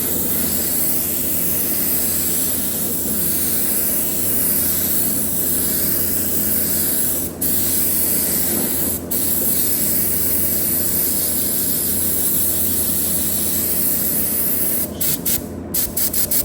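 Compressed air blown steadily onto a freshly painted flame-style surface, a loud continuous hissing rush that runs unbroken, with a few brief clicks and a short sputter near the end.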